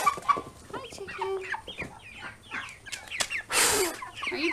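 Meat chickens in a coop cluck and chatter busily up close, overlapping calls and squawks with a burst of rustling, while people talk softly among them.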